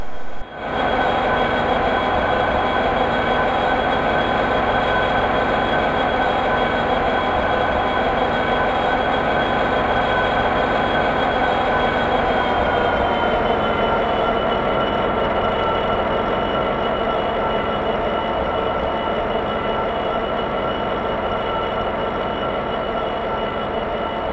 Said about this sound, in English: The locomotive will now be detached from the train and run around to couple onto the rear for the final time.